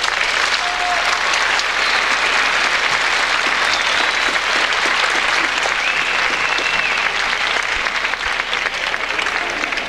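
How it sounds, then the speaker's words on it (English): A large audience at a 1995 HIV assembly gives guest speakers a sustained round of applause, dense steady clapping filling the whole stretch without pause. "Let's give our guest speakers biggest round of applause"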